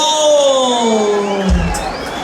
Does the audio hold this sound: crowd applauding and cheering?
yes